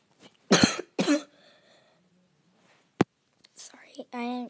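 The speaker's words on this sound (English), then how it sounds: "Sorry, I just coughed." A single short cough sounds close to the microphone during a casual Minecraft play session, amid soft whispered speech and a few quiet sounds.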